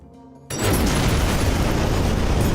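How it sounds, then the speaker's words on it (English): A nuclear explosion sound effect plays in a video game being built in Godot, bursting in suddenly after a quiet moment and roaring on loud and sustained. "Nuclear explosion. Let's see how loud it is."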